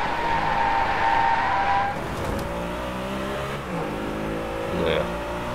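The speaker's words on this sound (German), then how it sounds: "wir können es ja mal mit Driften probieren" A race car in the video game DriveClub revs and drifts, engine tone rising and falling with a tire squeal near the end, under someone talking.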